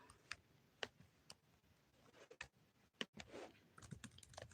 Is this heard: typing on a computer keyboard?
yes